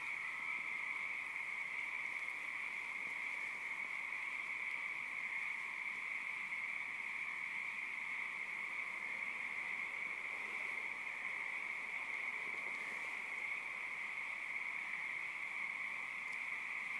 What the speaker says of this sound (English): So that's not tree frogs, that's like frogs in the water frogs.